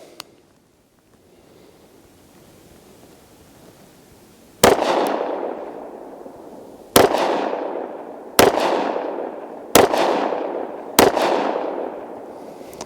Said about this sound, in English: See if some gun will fire here.